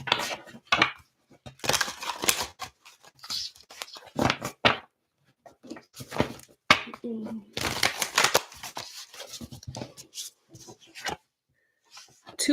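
Angel Wisdom Tarot cards shuffled and drawn for a reading, giving repeated papery riffles and flicks in bursts with brief pauses, close and fairly loud, with a few soft clacks of cards set down.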